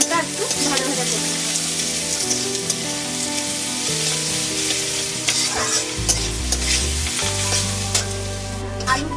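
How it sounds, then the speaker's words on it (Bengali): Radish and potato pieces fry in oil for a spinach curry, giving a constant bright sizzle that runs under prominent background music. "মূলো আর আলুটা একটু ভাজা ভাজা করবো।"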